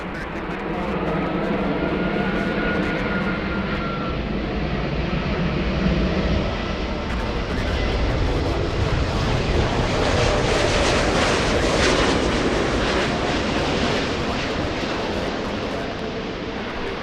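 An airliner holds on runway 24 left at LAX, its engines giving a steady, loud broadband roar with a faint rising whine, continuous throughout.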